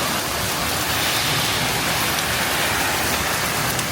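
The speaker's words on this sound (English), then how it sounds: "this rain is crazy" Heavy rain pours down on a street in Frankfurt, Germany, a loud, dense, steady hiss of drops hitting surfaces close by, with no talk over it.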